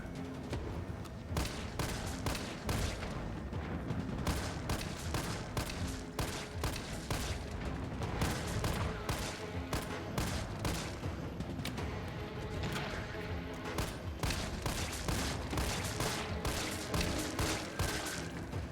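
An assault rifle fired again and again at zombies in Resident Evil 3 Remake, loud, sharp shots coming in quick bursts with short gaps, steady for the whole stretch.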